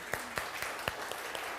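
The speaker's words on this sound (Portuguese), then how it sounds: "palmas para Jesus" Congregation in a church service clapping, with distinct, sharp claps standing out at a steady, moderate beat over a softer wash of scattered hands, fairly close and without speech.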